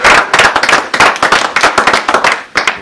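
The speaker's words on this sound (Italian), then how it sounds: "Un applauso." Loud, close applause at a diploma ceremony, a handful of people clapping in quick, uneven bursts that continue throughout, with no talking.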